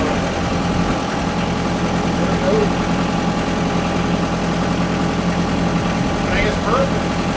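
A Kubota KX121 excavator engine, flood-damaged and with an auto-idle fault, runs steadily at throttle in a continuous low rumble with some vibration, close by, with brief voices over it.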